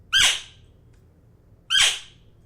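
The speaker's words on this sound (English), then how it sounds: "the Primos Hoochie Mama, which is basically a squeeze toy but" A Primos Hoochie Mama squeeze cow call used for hunting gives two loud, raspy squawks about one and a half seconds apart, each with a sharp start and a quick fade, heard close and alone.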